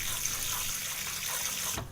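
Water pours steadily onto a tray of sprouting grass, a close, even hiss that runs for nearly two seconds and then stops abruptly.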